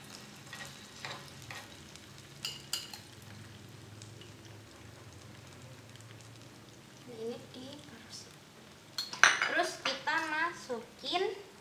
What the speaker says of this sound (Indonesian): Nah, cilornya dimasukin lagi nih, gorengan kedua.